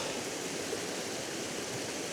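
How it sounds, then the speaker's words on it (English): A small waterfall in Alva Glen, Scotland, gives a steady, broadband rush of falling water, close and continuous with no pauses or voices. "A nice wee waterfall there as well"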